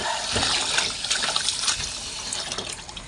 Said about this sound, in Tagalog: hugasan na natin ang ating gulay